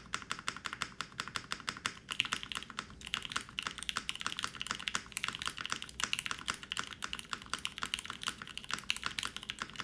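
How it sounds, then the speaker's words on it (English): Rapid mechanical keyboard typing, dense clicky keystrokes throughout with occasional deeper thocks from the spacebar, close and steady. "this keyboard just has a very natural, very deep sounding spacebar"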